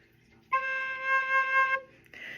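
One low, steady soprano recorder tone, a low C, held for just over a second, slightly wavering in volume, with no voices.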